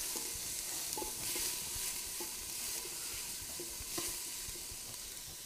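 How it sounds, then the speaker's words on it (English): Chopped onion and crushed garlic fry in olive oil in a pan, a soft continuous sizzle with occasional light clicks and scrapes from stirring, close by and without talk. "I'm going to put that in, stir that around just for a minute or so to soften that up"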